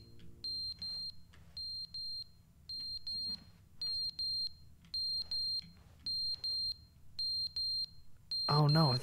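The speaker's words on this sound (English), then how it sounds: "Oh no, I think that's the fire alarm." A fire alarm in The Stanley Parable beeps in a steady pattern of rapid double pulses, loud and evenly spaced across several seconds, with a voice cutting in at the very end.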